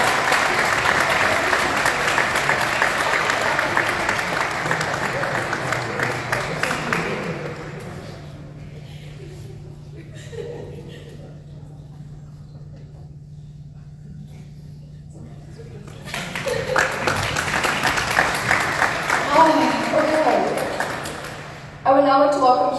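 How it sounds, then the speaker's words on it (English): An awards-ceremony audience gives a sustained round of applause, loud and dense for several seconds, fading to a quiet room, then swelling again with clapping and a voice speaking over it near the end. "Please join me in a round of applause for Kiara."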